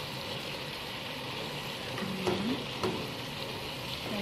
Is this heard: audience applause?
no